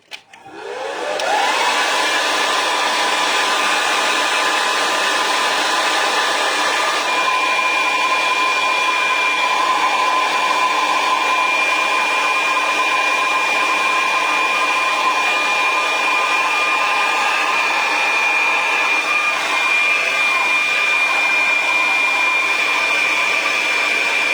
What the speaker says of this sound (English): I'm just going to burst it with heat once more just before, because I can just see it's still wet.